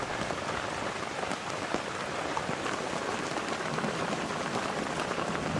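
Rain falling in Kanha forest, a steady dense patter of drops on leaves and ground, continuous and even throughout with no voices.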